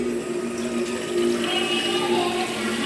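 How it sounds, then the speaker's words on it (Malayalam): Water is poured into a bowl, giving a steady, even rushing flow with a low background hum that continues unbroken for the whole stretch. "നമുക്ക് ആദ്യം കുറച്ച് വെള്ളം എടുക്കാം"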